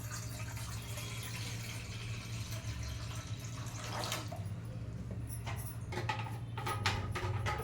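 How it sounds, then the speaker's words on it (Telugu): Water pours and trickles into a pot set on a lit kitchen stove, a soft, steady flow heard fairly quietly over a constant low hum. "పొయ్యి వెలిగించుకొని వాటర్ వేసుకుంటున్నాను"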